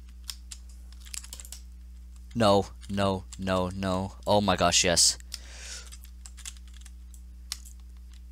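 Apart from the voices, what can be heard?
computer keyboard being mashed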